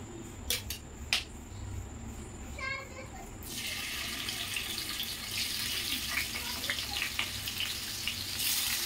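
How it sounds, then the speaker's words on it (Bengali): Paneer pieces frying in hot oil for a palak paneer dish: after a few quiet seconds with light clinks, a broad hissing sizzle bursts in and holds steady and close. "এবার পনিরগুলো তেলে ভেজে নেব।"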